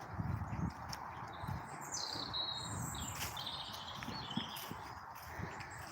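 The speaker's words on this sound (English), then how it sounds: "But listen to those birds." Faint birdsong chirps and trills near a disused railway line in the countryside, over a low outdoor rumble of distant traffic and soft footsteps on the path.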